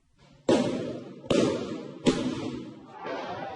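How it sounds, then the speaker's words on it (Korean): Gunfire from soldiers and police in a Myanmar residential area, three sharp loud cracks roughly a second apart, each trailing off in echo, followed by a softer fourth report. "쉴 새 없이 총성이 울립니다"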